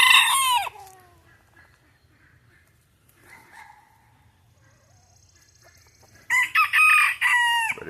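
Bantam roosters crow on a small farm, one loud nearby crow at the start, soft clucking and distant calls in between, then another loud close crow near the end.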